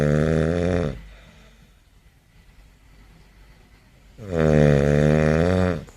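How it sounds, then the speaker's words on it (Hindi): Loud, deep snoring heard close up in two long rasping breaths separated by a quiet pause of a few seconds. "कई लोग ऐसे होते हैं जिन लोगों को बहुत खर्राटे आता है"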